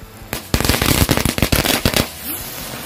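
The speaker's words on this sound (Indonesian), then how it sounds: "Satu pak mercon gangsing berhasil menyala." A pack of spinning firecrackers (mercon gangsing) goes off at night, a loud dense burst of rapid crackling pops lasting about a second and a half before dropping away to quiet.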